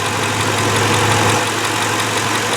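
A 2005 Ford Explorer 4x4 engine idles steadily up close, a continuous low rumble with a faint knocking texture and no talking.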